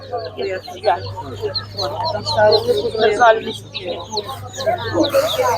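Chickens and small chicks cluck at a live animal market, their busy calls mixed with a crowd of voices and steady background hum.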